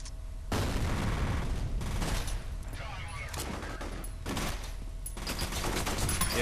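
Loud bursts of gunfire and a booming grenade blast in the F.E.A.R. shooter game, heavy, close and broken into several volleys with short gaps between them.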